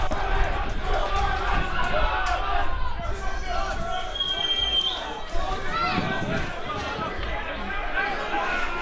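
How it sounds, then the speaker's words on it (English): Lively, close crowd at a rugby match between Buccaneers and Armagh, cheering and chattering excitedly throughout, with a commentator speaking over the noise. "Crowd getting very excited down in front of us."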